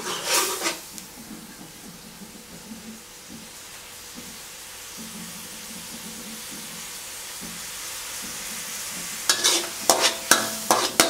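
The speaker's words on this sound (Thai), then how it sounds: "เคี่ยวสักพักนึงครับให้มันมีกลิ่นหอมแล้วก็ข้นขึ้นนะฮะ" Catfish curry simmering in a pan, a quiet steady bubbling hiss that runs throughout, with louder sharp clatters of stirring at the start and again near the end.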